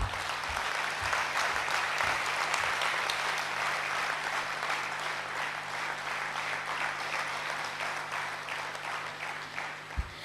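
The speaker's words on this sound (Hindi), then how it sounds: "तालियों की गड़गड़ाहट पुनः हो जाए भ्राता गिरीश पटेल जी के इंतजार में" An audience at a Gyan Sarovar talk on positive thinking applauds in a long, steady roll to welcome a guest. The clapping is fairly distant and even for about ten seconds, a low hum runs beneath it, and a single louder clap comes at the end.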